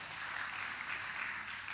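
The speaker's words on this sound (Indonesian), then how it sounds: "Berikan tepuk tangan untuk Tuhan sekali lagi." Congregation applause during a church service, a soft, even wash of many hands clapping, faint and distant, with no speech over it.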